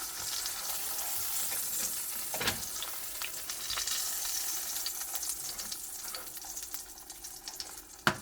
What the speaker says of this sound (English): So the hash browns are cooking up.